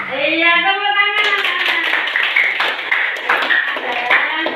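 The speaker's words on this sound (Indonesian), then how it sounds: "Iya, tepuk tangan." Classroom of children clapping hands together in rhythmic bursts after a teacher's prompt, preceded by a short sung or spoken tone, the clapping close and lively with voices mixed in.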